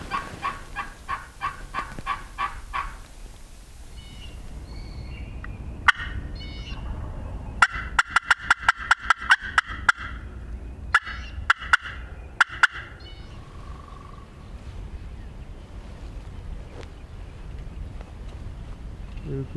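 A wild turkey gobbler on public land in Missouri, down in a lake bottom, gives rapid rattling gobbles at moderate distance, followed by a run of sharp clicks and softer calls over outdoor background noise.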